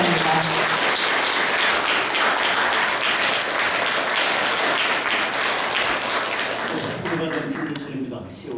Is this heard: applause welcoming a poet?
yes